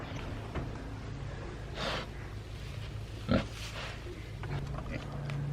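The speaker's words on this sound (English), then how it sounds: "Happier pigs." Pigs on a homestead grunt and snort in short, scattered bursts over a steady low background hum, with one sharper snort standing out midway.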